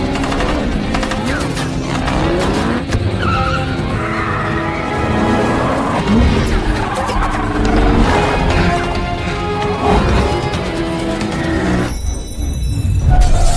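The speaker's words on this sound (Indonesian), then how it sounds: "sampai terjadilah adegan kejar-kejaran mobil" Dense, loud action-film car chase with screeching, skidding tires, roaring engines and crash-like impacts layered over a constant dramatic soundtrack throughout.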